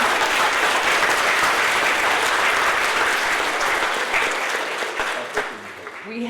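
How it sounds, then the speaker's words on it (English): Awards-ceremony audience giving a round of applause, thick sustained clapping from a large crowd that stays loud throughout and thins slightly near the end as a voice begins. "Let's give them a round of applause in absentia."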